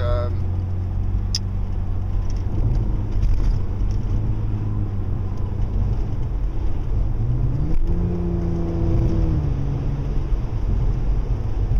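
Cars drive past outdoors early in the morning, a steady loud traffic rumble with engines rising and falling as vehicles pass close by.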